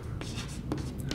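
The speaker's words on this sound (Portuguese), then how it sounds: "Vou escrever aqui," Chalk or marker strokes writing a word on a classroom board during a Portuguese-language lesson, with several short scratchy strokes spread across about a second, close and fairly quiet, no speech over them.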